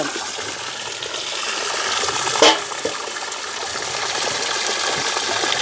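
Water splashing and gushing steadily as peeled cassava roots are washed, a continuous close wash of liquid noise with one brief louder slosh midway.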